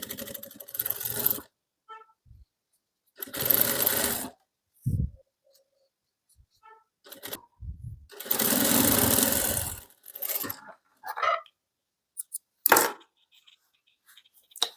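A sewing machine stitches a waistband onto sharara fabric in several separate runs of steady whirring, each lasting a second or two, broken by silent pauses and small handling clicks.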